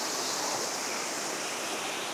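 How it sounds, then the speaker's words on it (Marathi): Clean waterfall water pours steadily near a dam during a monsoon outing, a dense continuous rushing roar with no breaks and no voices. "धबधब्याचं पाणी"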